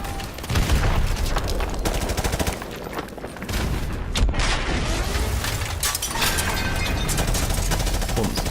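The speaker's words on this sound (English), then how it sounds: "It's about to shoot this tank through the building." Tank cannon fire and gunfire in the Modern Warfare Remastered War Pig campaign mission, a dense, loud, continuous barrage of shots, booms and rumbling mechanisms with a sharp blast through a building.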